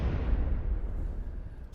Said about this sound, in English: I kind of like that explosion.